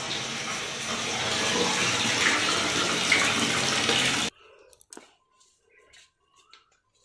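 A kitchen tap runs steadily into a sink basin for washing dishes, a loud continuous gush that stops abruptly partway through, followed by faint clinks and small handling noises.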